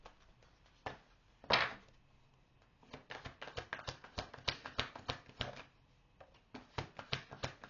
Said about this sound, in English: I'm being told to shuffle one more time.